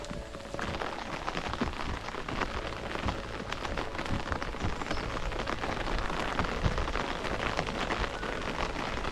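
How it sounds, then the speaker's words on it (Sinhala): Steady rain falls on an umbrella and surroundings while walking in Deanston Mini World's End, a dense, constant patter that stays close and fairly loud throughout, with no talk over it. "වහිනවා."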